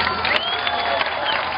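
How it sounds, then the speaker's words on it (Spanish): A school crowd applauds to see off third-year students at a Mexican Revolution commemoration, a brisk wash of clapping with some cheering mixed in, steady and fairly loud throughout. "el aplauso jóvenes para despedir a estos alumnos de tercero A"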